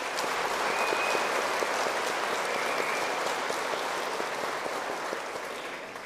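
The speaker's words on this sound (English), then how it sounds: "if you would join me in giving them a round of applause" Applause from a gala audience fills the room, a dense, steady wash of many hands clapping at close range that holds for several seconds before easing slightly at the end.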